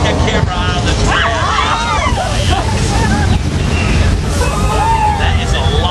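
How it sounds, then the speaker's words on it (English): Recycled water floods down a ride trail in a loud, continuous rushing wash with wind buffeting the microphone, and excited voices and whoops over the torrent. "We got a flood, look out back there."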